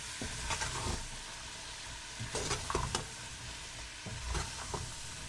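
Chickpeas roasting with spices in a pan for homemade Lahori chana, a steady close sizzle with repeated bursts of scraping and stirring spread through the clip.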